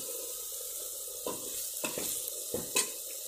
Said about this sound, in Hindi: हल्दी को बिल्कुल अच्छे से पका लेना है और चम्मच को लगातार चलाते रहें ताकि नीचे चिपक ना जाए